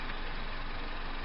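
A 2007 Honda Civic engine idling while sitting still, a steady dense rumble with no changes in pitch or rhythm, alone and close.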